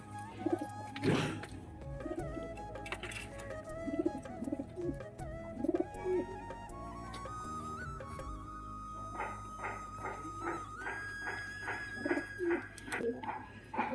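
Pigeons coo in repeated low, rolling calls close by, one bird after another, with faint background sounds beneath.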